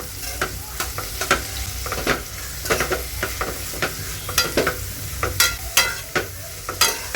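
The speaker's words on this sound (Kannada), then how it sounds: "ಕ್ಯಾಪ್ಸಿಕಮ್ಮು ಮತ್ತು ಎಲೆಕೋಸು ಅದನ್ನ ಹಾಕೊತಾ ಇದ್ದೀನಿ. ಇವಾಗ ಇದನ್ನ ಚೆನ್ನಾಗಿ ಮಿಕ್ಸ್ ಮಾಡ್ಕೊತೀನಿ." Capsicum and cabbage being stir-fried in a pan, with frequent loud spatula scrapes and clacks over a steady sizzle, close up, in an irregular rhythm.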